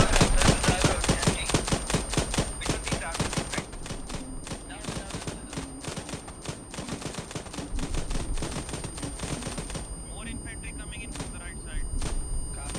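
Suppressing automatic gunfire in a video game, rapid sustained bursts of shots in a close, relentless stream lasting throughout, with voices talking under the fire.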